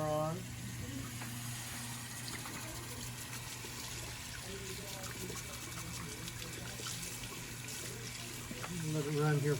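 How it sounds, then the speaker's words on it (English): A bathroom tap runs in a steady, close stream, with water splashing and trickling underneath a low constant hum that swells slightly toward the end. "Turn the water on."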